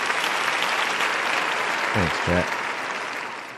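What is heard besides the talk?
applause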